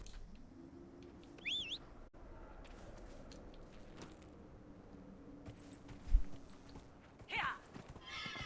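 Horse in Dragon Age Inquisition, quiet ambient with a couple of brief whinnies and a soft thump, over a low steady backdrop.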